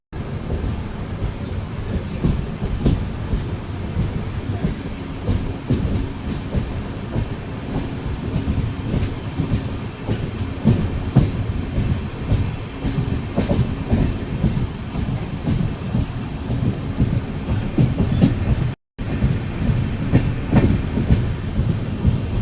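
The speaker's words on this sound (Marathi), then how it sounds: "दिवा पॅसेंजर पण निघाले आमची ट्रेन पण निघाली" A passenger train rolls along a rail line, a continuous loud rumble with clickety-clack rhythm from the wheels and a brief dropout near the end, no voices.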